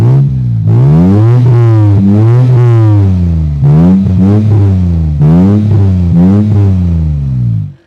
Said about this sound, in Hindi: ये भी HKS के एग्जॉस्ट लगा रखे हैं इन्होंने और साउंड भी क्वाइट मैसिव है।